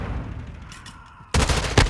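A flashbang grenade in Call of Duty Modern Warfare 2 bursts suddenly and loudly after a stretch of low, murky ambience, leaving a harsh crackling blast to the end.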